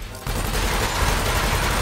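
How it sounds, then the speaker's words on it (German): Rapid Gatling gun fire in the space combat game Elite: Dangerous erupts abruptly into a dense, continuous roar of shots that stays loud and unbroken once it starts. "Das sind so Gatling Guns"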